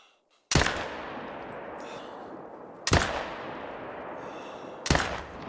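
Three loud, sharp rifle shots from an Olsson Model 23 .308 in the hunting game theHunter: Call of the Wild, spaced about two seconds apart, each cracking sharply and trailing off in a long rolling echo.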